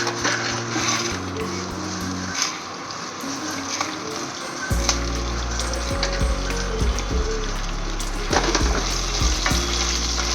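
Drumstick leaves and coriander seeds fry in a pan on low heat, giving a dense continuous sizzle that swells louder midway and runs steadily to the end over a low background hum.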